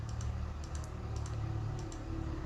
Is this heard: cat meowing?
no